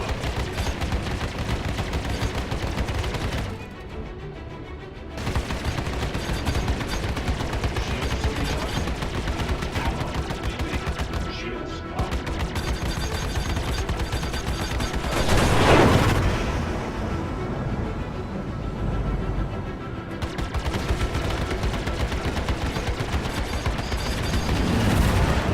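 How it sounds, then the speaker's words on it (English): Weapons fire and missile impacts in the space combat game Star Citizen: a dense, loud, continuous barrage of rapid shots with a few brief lulls and a heavier burst of blasts midway. "He's got lock. Missiles incoming. You're taking hits."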